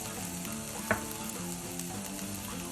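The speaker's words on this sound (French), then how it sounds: "je vais faire griller un peu mes épices" Ground cumin and turmeric toast in a hot pan for chili con carne, giving a steady, quiet sizzle with a faint scrape of stirring partway through and no voices.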